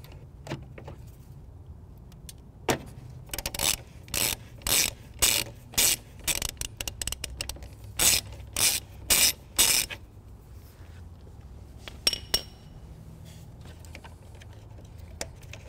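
Ratcheting wrench loosening the positive battery terminal nut on a 2016 Dodge Journey, giving bursts of quick metallic clicks in rhythmic strokes, close and clear, with short pauses between runs and a faint low hum underneath.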